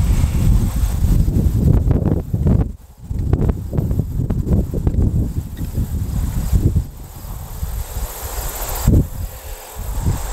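Strong gusting wind during a windstorm roars and buffets loudly and close throughout, with brief lulls between heavy blasts.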